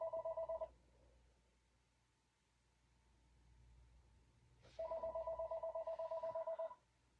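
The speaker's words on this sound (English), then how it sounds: "Phone's ringing." A telephone rings indoors in two bursts of rapid electronic trilling, one short and one longer, separated by a few seconds of quiet room hiss.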